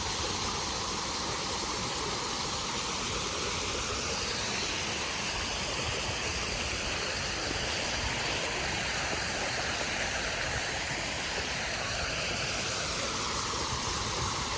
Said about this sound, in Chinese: 尤其是听到这个水流过的声音